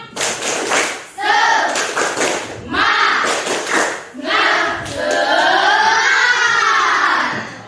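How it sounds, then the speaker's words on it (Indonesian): Students in a classroom perform a rhythmic clapping chant, with bursts of sharp claps and taps alternating with children's voices chanting and shouting together, loud and close. "Oke, tepuk semangat"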